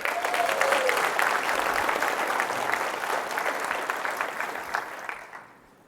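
Conference audience at a Roblox developer event claps, a full round of applause that stays steady and then fades out near the end, with a few scattered cheers.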